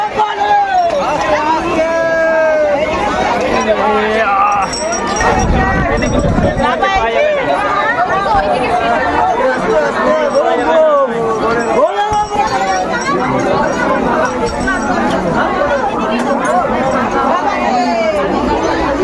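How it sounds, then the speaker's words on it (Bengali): A packed crowd pushes aboard a train during the Tarakeswar pilgrimage, a dense steady babble of many voices and shouts filling the space, with people talking close by throughout. "জাস্ট ভিড়টা দেখো ট্রেনের মধ্যে, মানে কি বলবো, মারাত্মক লেভেলের কিন্তু ভিড়।"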